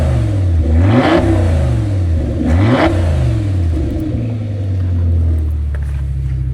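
An Audi RS6 with a V10 engine revs twice in quick, sharp blips, each rising and falling, before it settles into a loud, steady idle rumble, close by with no talking.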